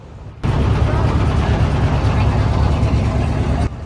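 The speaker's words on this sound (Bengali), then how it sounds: "সকাল 7:10 আমাদের ট্রলারটি বড় স্টেশন থেকে ছেড়ে যায়" A trawler boat's engine drones steadily as the boat pulls away from a large station in the morning, a loud continuous low rumble that starts abruptly and runs unbroken with no talk.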